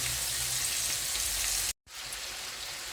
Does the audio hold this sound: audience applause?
no